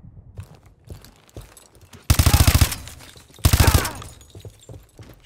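Gunfire in Call of Duty: Advanced Warfare, two loud bursts of rapid automatic fire, each lasting under a second, set apart by a short pause and surrounded by quieter in-game shuffling and clatter.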